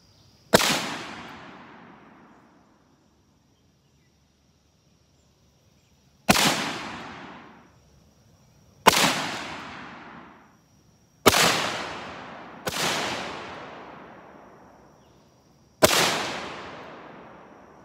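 Six sharp, loud FN FAL rifle shots ring out one at a time at a 100 meter man-sized target, each crack trailing off in a long outdoor echo, with uneven pauses between them and no talking.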